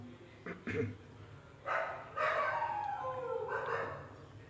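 Several dogs barking outdoors at a distance, a few scattered yelps and then longer howling barks, moderately faint against a low background hum, with no talk.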